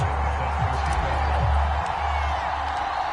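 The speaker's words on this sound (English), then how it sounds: "a moment ago they entered to the delight of this sold-out crowd" A sold-out stadium crowd roars in the Madden NFL football game, Bills against the 49ers, a constant dense wash of cheering with low rumbles beneath, steady and loud throughout.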